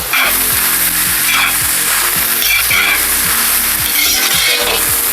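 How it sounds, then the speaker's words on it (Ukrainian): Carrots and onions sizzle and crackle steadily in hot oil in a pot, a dense continuous frying hiss with no voices. "смаження цибулі та моркви"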